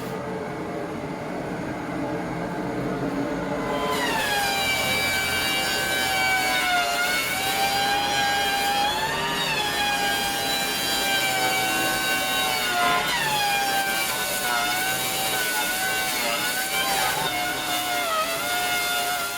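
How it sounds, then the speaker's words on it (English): A wood jointer takes heavy cuts while a small Grizzly T33587 dust collector runs, making a loud, steady whine with long rising and falling pitch sweeps as the boards feed through, continuous for the whole span with no talk. "So let's hook it back up to the joiner and make some heavy cuts with it and see how well it does."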